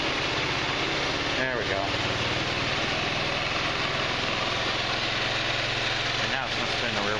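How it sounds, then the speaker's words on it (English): An Eagle Craft Verano 150 scooter engine idles steadily after a valve adjustment with the plastics removed, a close, continuous buzzing putter that spins the rear wheel slightly, with a brief spoken remark over it. "So we're about right on the idle. Sounds like it's running pretty good."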